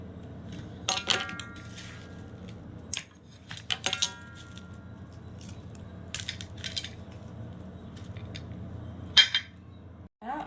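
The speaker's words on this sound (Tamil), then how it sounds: "கத்தாழையில் வச்ச வெந்தயம் இதை அப்படியே கட் பண்ணி நம்ம இதில் ஆட் பண்ணிக்க போகிறோம்." A knife cuts through an aloe vera leaf packed with soaked fenugreek seeds, giving several crisp, close cuts and clicks in irregular bursts over a faint, steady background hum.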